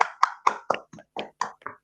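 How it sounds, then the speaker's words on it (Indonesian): A class claps in unison, eight distinct, evenly spaced loud hand claps close by, each sharp and separate with brief silence between them. "tepuk tangan untuk kita semua dulu"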